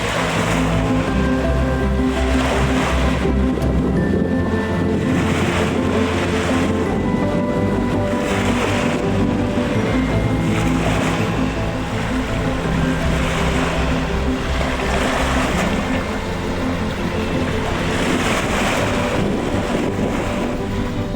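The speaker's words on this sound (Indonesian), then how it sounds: "hembusan angin timur yang sangat kencang dan ombak besar" Loud, continuous roar of strong east wind and heavy ocean surf with big waves, surging waves crashing steadily throughout; no voices.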